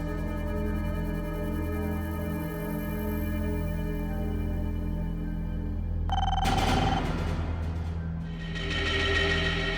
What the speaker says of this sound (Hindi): इतनी रात गई, किसका फोन है?